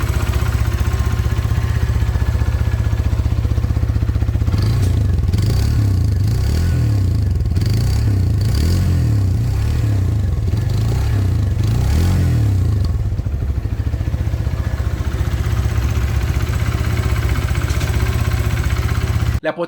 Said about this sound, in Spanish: Ahora escuchemos un momento su motor.